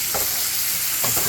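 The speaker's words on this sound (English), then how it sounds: "Ooh, don't burn the butter." Butter sizzling in a hot frying pan on a stovetop, a loud, dense, continuous hiss close up, with a couple of brief soft stirring scrapes and no talking.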